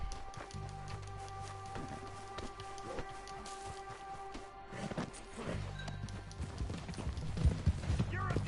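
Horses in Red Dead Redemption 2 Online, with hoof clip-clops and movement sounds mixed with ambient game noise and steady low tones, while a voice talks over them.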